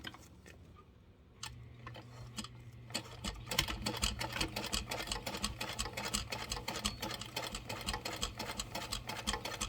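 A sewing machine backstitches a seam at a 5.5 stitch length with an eighth-inch seam allowance. After a quiet start it breaks into a rapid, steady mechanical ticking that grows louder and continues without any talking.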